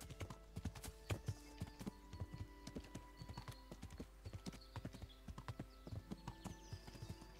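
Horse hooves clip-clop steadily in the medieval role-playing game Kingdom Come: Deliverance, a brisk regular walking rhythm close by with a brief whinny, no talk.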